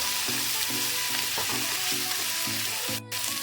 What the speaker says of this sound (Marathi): टोमॅटो इथं 1-2 मिनिट आपल्याला परतून घेतल्याच्या नंतर लसूण, काजू आणि कोथिंबीर हे सुद्धा याच्यामध्ये टाकून परतून घ्यायचे